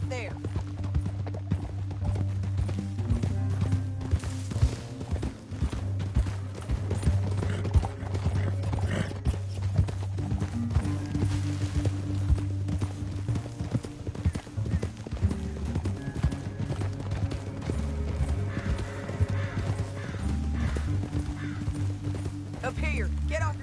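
Horses clip-clop at a steady gallop in the video game Red Dead Redemption 2, with a few whinnies, under continuous talk and a low music bed throughout.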